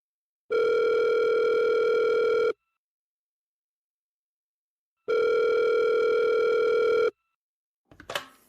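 Two long, steady telephone tones with a pause between them, followed by a brief clatter at the end.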